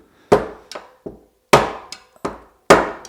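Hammer blows driving a wheel bearing into a Bülk velomobile rear wheel: five or six sharp, close metallic strikes at an uneven pace, each ringing briefly before the next, with no talk.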